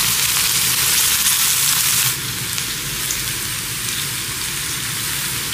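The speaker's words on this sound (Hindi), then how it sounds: "2 मिनट मैंने प्याज को भी गोभी के साथ फ्राई किया" Onion and cauliflower fry in a pan over a medium-low flame, giving a loud, steady sizzle close by that drops slightly in level partway through.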